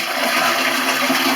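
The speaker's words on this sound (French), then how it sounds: "on chasse l'eau" A toilet flushes with a steady, close rush of water throughout.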